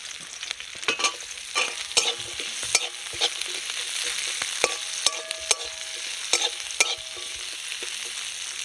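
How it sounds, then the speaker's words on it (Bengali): Chopped onion sizzles in hot mustard oil with dried red chilli in a kadai, a steady close frying hiss broken by sharp, irregular scrapes and clicks of a stirring spatula. "কুচিয়ে রাখা পেঁয়াজ দেবো,"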